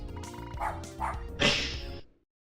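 Dogs in a video game give a few rhythmic, cartoonish woofs over steady game music, ending in a louder bark before the sound cuts off.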